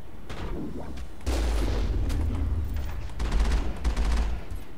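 Gunfire in the video game Mass Effect comes in loud, rolling bursts of rapid shots with heavy booming low end, filling most of the clip.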